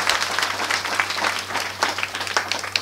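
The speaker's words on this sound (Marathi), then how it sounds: "म्हणून टाळी वाजवत जा" An audience at a kirtan breaks into steady applause, a dense field of many hands clapping close and loud for the full stretch, with a faint low hum beneath it.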